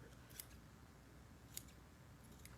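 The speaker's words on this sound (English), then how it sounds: "Alright, so I'm going to trim up this head here." Scissors trim the head of a 5.5-inch blended feather Game Changer fishing fly, giving two faint, crisp snips about a second apart over quiet room hiss.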